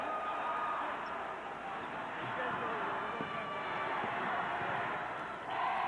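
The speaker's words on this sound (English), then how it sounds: "Hurricane supporters in full voice cheering their way through this last minute of play." Westhampton Beach Hurricane supporters cheer in full voice through the final minute of a 1998 New York state Class B championship basketball game, a steady, dense crowd roar that holds for the whole stretch.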